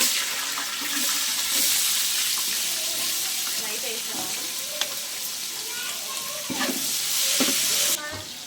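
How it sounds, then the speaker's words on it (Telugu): Green chillies and onions added to hot masala in a large pot for ten-kilogram dum biryani, a steady loud sizzle and hiss of frying throughout, with faint stirring clinks. "మసాలా వేగిందండి పచ్చిమిరపకాయలు ఉల్లిపాయలు వేస్తున్నా"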